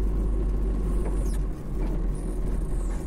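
A car rolls along at low speed with a steady low engine rumble and tyre noise, close and continuous, with a slight dip midway and no talking.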